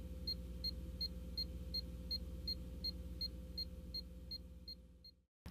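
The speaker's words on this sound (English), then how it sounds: "The steady beeping sound indicates that the transmitter has a good low resistance connection" A steady series of short, high electronic beeps from a NaviTrack line transmitter with a good low-resistance connection repeats at an even pace over a low hum, then cuts off.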